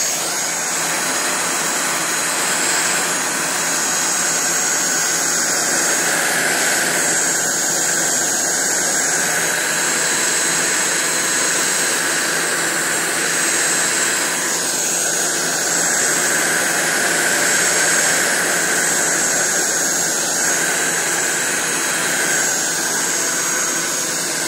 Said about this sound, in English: I'm just going to use the heat gun a little bit